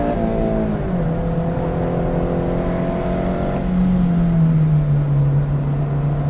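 An 8th-gen Honda Civic Si with a mostly stock setup revs hard around a race track, its loud, sustained engine tone holding up high, then dropping and settling lower after a shift.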